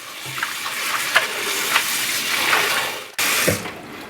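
Tap water runs steadily into a sink holding collard greens, a continuous splashing wash with small surges, briefly cut off near the end before flowing again.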